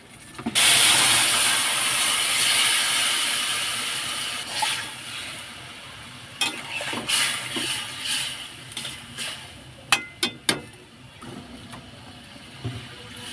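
A vegetarian curry with chilli, asafoetida, turmeric and spices boils in water in a pot, giving a steady loud hiss of steam with scattered bubbling pops and clinks toward the end, no voices.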